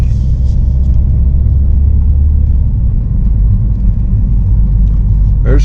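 A car drives over a small-town road with bumps, giving a loud, constant low rumble and vibration from close inside the vehicle, with a voice heard faintly over it.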